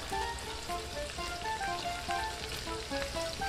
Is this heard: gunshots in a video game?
no